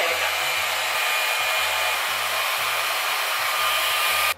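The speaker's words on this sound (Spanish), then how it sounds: "vamos a usar el secador en el setting de bajo, en el low y no tan cerca" A hair dryer on its low setting, drying curtain bangs, gives a steady, loud, close airy whoosh with a faint pulsing hum underneath, continuous and without speech.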